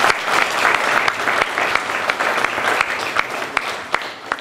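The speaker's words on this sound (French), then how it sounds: "Applaudissons-le." Applause for a newly named president of a Muslim institutions collective in Roubaix, dense steady clapping from a gathered audience lasting several seconds at close range, with occasional sharper individual claps standing out.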